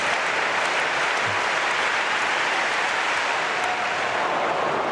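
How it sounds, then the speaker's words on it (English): A large stadium crowd roars steadily at a women's 200m semi-final at the 2022 European Athletics Championships in Munich, a dense wash of cheering and clapping with no break. "There's such noise in the stadium tonight"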